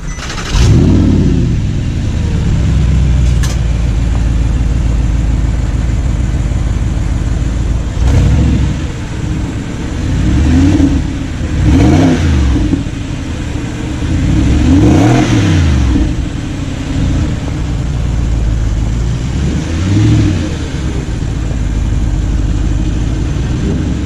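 An Audi R8 sports car with a V8 engine and seven-speed dual-clutch transmission fires up, then revs loudly several times in sharp rising and falling bursts over a steady rumbling idle, close by with no talking.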